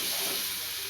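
Ground green masala paste sizzling and frying in hot oil in a home kitchen, a steady bright hiss throughout the short moment, close and even, with no voices.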